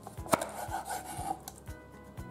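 A knife cuts a catfish into slices on a board, giving several soft, evenly spaced chopping thuds and one sharper knock, close and quiet with no talk.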